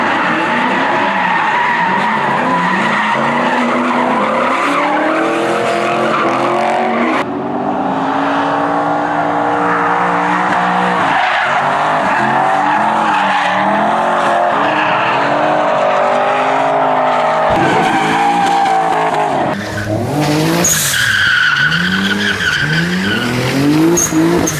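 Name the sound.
Nissan 300ZX racing and skidding in Need for Speed video game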